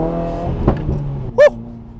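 A Subaru WRX accelerates on a rain-soaked road, its engine note rising loud and close before a sharp exhaust pop cracks out near the middle, then the revs fade.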